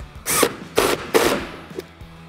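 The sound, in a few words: tightening a seat belt bolt with a 14mm wrench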